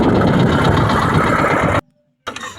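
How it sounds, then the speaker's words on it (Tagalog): The motor of a fishing flatboat runs at a steady, loud, close drone while out on the water in strong wind. It cuts out abruptly for a moment, then sputters back to life. "Ayan ang motor ko mga idol, oh."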